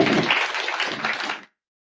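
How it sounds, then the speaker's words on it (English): Room audience at a tech and sustainable clothing meetup applauds two talks, a brief dense patter of clapping for about a second and a half before cutting off abruptly. "just a quick round of applause for both"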